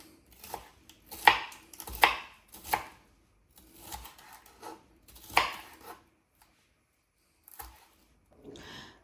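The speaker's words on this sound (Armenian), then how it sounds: "Հիմա սա կտրատում եմ քառակուսիներով։" A knife chops bell peppers into squares on a cutting board with a run of sharp, close, uneven taps grouped in short bursts, with pauses in between.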